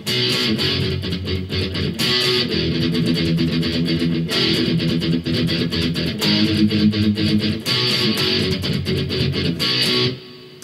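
Palm-muted electric guitar riff from Blink-182's Pathetic, a dense, distorted, chugging pattern played continuously and loudly on its own, with brief breaks between phrases before cutting off at the end.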